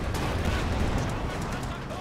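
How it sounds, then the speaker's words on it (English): In the video game Company of Heroes 2, an artillery bombardment plays as a dense, continuous rumble of booms and gunfire, with a voice talking over it throughout. "They're probably bombarding Nick on the hill there."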